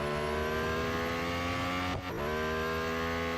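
Several racing car engines in Real Racing 3 drone together at high, steady revs, a dense loud whine that briefly dips and recovers mid-way.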